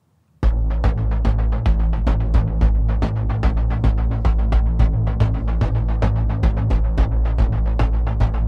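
Zebra software synthesizer patch from the Refrakt set, a dense pulsing tone with steady rhythmic throbbing beats over a deep sustained low end, its filter sweeping and shifting throughout, loud and continuous with no voices.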